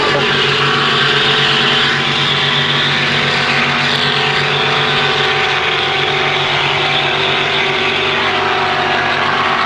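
Racing motorboats roar down the course at a Canada Day boat race, a loud, steady engine drone with a whining propeller that holds for the whole stretch, with no voices over it.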